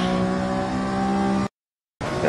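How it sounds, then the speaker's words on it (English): Touring cars racing and shunting in Gran Turismo 7, with a loud, steady engine drone held close up, then a sudden half-second cut to silence before the engine noise returns. "Touring car shunting going on."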